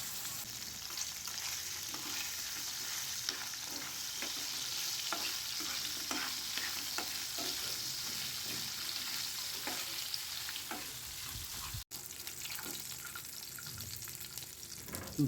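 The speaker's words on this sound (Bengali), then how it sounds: "এখন একটি কড়াইতে তেল নিয়ে এগুলোকে ভালো করে ভেজে নিব।" Dried ribbonfish fries in hot oil in a wok, giving a soft, constant sizzle broken by faint scraping stirs and one brief dropout, with no one speaking.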